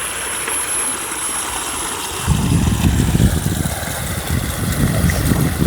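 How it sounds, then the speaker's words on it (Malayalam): Water flows and splashes down into a pond, a broad rushing wash that swells into a louder, rumbling torrent after a couple of seconds. "ഇങ്ങനെ വെള്ളം ഒലിച്ചു ചാടി ഇങ്ങനെ പോവാണ് അല്ലേ"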